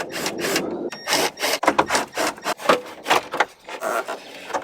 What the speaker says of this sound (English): I'm going to go ahead and remove this plastic trim real quick